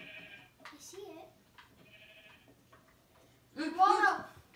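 Blocky Minecraft sheep bleat during survival gameplay, with short calls early on and then a louder, wavering bleat near the end, mixed with voices and faint game sounds.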